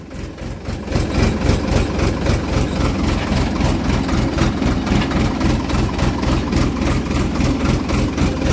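A farm tractor's engine idles close by, pulsing in a steady, even low throb for the whole stretch with no speech over it.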